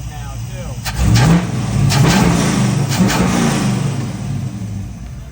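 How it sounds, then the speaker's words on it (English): A car engine fitted with a Holley carburetor and PowerBlast plates revs up sharply, then holds a steady, loud mid-pitched roar before easing off, with a voice talking over it. "You can actually hear the difference in the carburetor and how much throttle response it's got now too."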